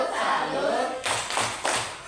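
Schoolchildren in a primary classroom clap through a rhythmic salute routine, bursts of hand claps and taps coming in quick groups, close and loud over a busy room.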